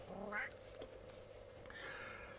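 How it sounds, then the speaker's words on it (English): A cat meows softly a couple of times in a quiet room, brief mewing calls with a low steady hum beneath. "So if you hear anyone meowing during the video,"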